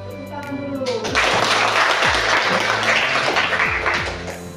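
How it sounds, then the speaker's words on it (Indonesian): Students in a junior high classroom clap their hands in a burst of applause that swells and fades over a few seconds, mixed with thumps and taps and a voice speaking over it. "Tepuk tangan dulu."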